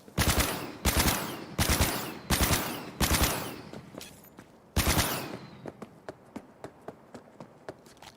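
Bursts of turret machine-gun fire in Cyberpunk 2077, five loud rapid volleys followed by a longer burst, then a run of lighter, evenly spaced single shots or taps trailing off.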